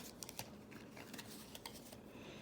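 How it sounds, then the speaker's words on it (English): Playing cards shuffled by hand for a Star Trek Frontiers board game, a quiet close riffle of fast crisp clicks and flutters with no voices. "So I'm going to shuffle my cards."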